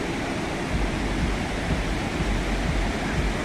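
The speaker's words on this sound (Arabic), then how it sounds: "البحر هايل." Waves washing up on a beach where the water reaches knee height, a steady broadband roar of surf close by with no break, heard alone.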